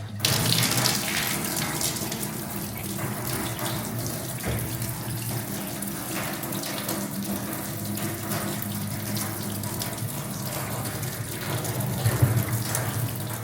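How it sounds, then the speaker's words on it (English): Water pours steadily from a tap into a copper bathtub, a continuous, even rushing gush heard close up for the whole stretch, with no voices. "better fill this bath up and make sure it's all good"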